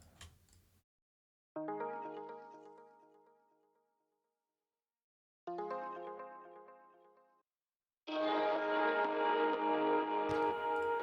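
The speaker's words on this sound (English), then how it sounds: "the background kind of ambient layer to this main section here" Ambient background synth loop from an Ableton Simpler preset, heard as three separate tonal, shimmering phrases. The first two fade out after about two seconds each, and the third is a louder, denser sustained layer. No one speaks.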